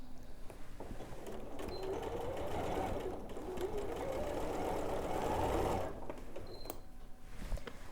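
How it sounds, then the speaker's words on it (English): A sewing machine stitches a half-inch seam on a gingham tote bag, a steady mechanical whirring run lasting several seconds with faint clicks, then stopping near the end, fairly quiet and close. "And I'm going to sew down there"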